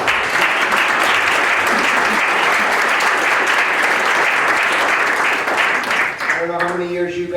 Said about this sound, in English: I just ask you to give them a round of applause